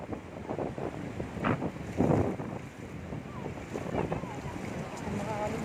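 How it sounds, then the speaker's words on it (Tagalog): Ocean waves surge and crash onshore at San Fabian Beach, Pangasinan, amid blustery wind buffeting the microphone, with occasional voices and seabird-like calls faintly in the mix. "kung gaano katataas ang alon, no?"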